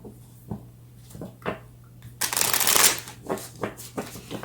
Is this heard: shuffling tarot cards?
yes